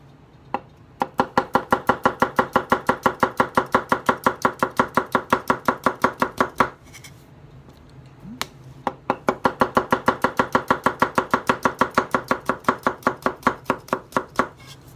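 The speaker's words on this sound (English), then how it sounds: "usual tomato chop, as usual" A Makoto Kurosaki SG2 gyuto knife chops through tomato in fast, steady strokes on a board, two long bursts separated by a short pause, crisp and close with no talking.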